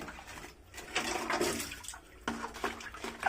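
Water rushes and gurgles steadily, draining with a broad hissing flow that swells and dips, close by with no voices.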